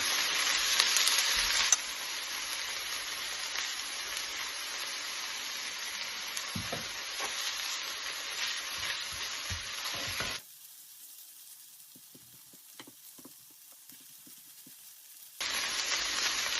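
Loud, steady hiss of a spoonful of oil sizzling in a frying pan while making pide with minced meat, briefly quieting midway before the crackling sizzle returns.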